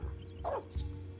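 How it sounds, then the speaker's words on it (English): A dog barking in the video game Final Fantasy IX, a single short near bark over a steady game music hum. "It's a doggy."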